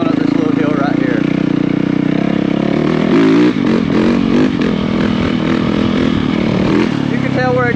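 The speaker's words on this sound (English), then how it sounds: "Right, it's a little wheelie going up this little hill right here." A motorcycle revs loudly and continuously while wheelieing up a small hill, its engine note rising and holding under steady throttle, with a voice talking over it throughout.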